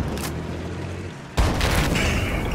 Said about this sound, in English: Yep, that's definitely a tank.